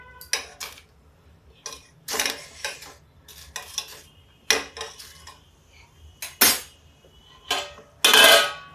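Tomatoes being turned over in a cooking pan, heard as a series of sharp metallic scrapes and clinks of a utensil against the pan, spaced irregularly with quiet gaps between.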